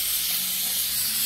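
Steam hisses steadily from a pot of potatoes boiling on a home stove while cooking chicken and vegetable soup, a continuous close broadband rush with no voices.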